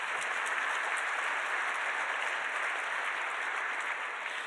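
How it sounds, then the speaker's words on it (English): Dense applause from a crowd at the University of Minnesota, steady and sustained for several seconds, filling the room without any speech. "I think that's worthy of applause"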